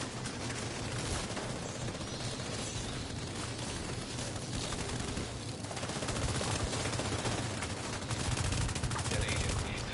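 Mortar and gunfire in The Division 2: continuous, dense bursts of shooting and impacts layered into a loud, relentless barrage that grows slightly heavier toward the end, with voices faintly underneath.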